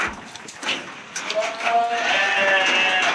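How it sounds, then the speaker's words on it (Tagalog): Sheep on a family farm in Doña Remedios Trinidad, Bulacan, bleat in wavering, overlapping cries, moderately close, amid a noisy outdoor background with some voices. "Ilang boses rin pala ng mga sheep."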